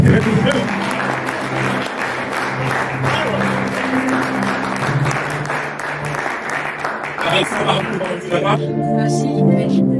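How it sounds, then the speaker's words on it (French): Church congregation applauding together, a steady loud wash of clapping that carries on for several seconds, with someone speaking over it. "Est-ce qu'on peut acclamer la parole?"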